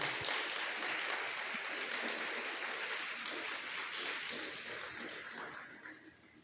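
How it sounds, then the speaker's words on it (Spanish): A congregation at a church service gives a strong round of applause, a thick, continuous roar of many hands clapping that holds steady and then fades toward the end, with no voices on top. "Damos un fuerte aplauso al Señor."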